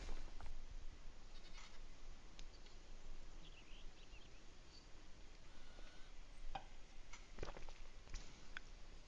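A few faint goat bleats from a goat pen in the video game Satisfactory rise over a steady, noisy outdoor ambience, scattered and distant rather than continuous.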